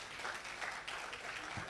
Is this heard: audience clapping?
yes